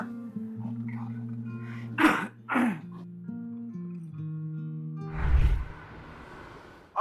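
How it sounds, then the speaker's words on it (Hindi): A man coughs twice in short, harsh bursts over a sustained musical background, followed later by a heavier, breathy throat sound, all fairly close. "कितनी खांसी आ रही है आपको?"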